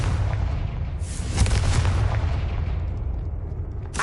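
The Confringo spell in the video game Hogwarts Legacy, played on PlayStation, bursts into a loud, booming blast that rolls on with a sustained rumble and crackle before fading.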